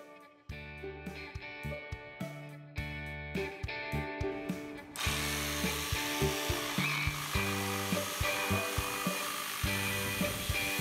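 A jigsaw cuts wood for a guitar rack, its rapid buzzing chatter loud and close, starting in short bursts before settling into one continuous cut.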